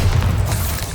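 A Bombarda spell explodes in Hogwarts Legacy as one loud, deep, rumbling blast that fills the whole moment, close and heavy in the low end.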